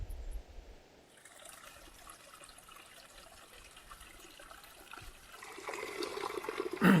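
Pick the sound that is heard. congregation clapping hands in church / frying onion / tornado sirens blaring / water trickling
water trickling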